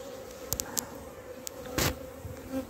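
Honeybees from a weak, cold-damaged colony buzz in an opened hive at an apiary: a steady, moderately close hum with a few brief clicks and knocks from handling the frames.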